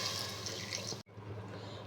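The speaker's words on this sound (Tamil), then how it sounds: "கொஞ்சமாக தண்ணி சேர்த்துக்கலாம்." Water poured into cooked lima beans in a pot for a Tamil-style curry, a short splashing stream that cuts off abruptly midway, then a softer pour follows.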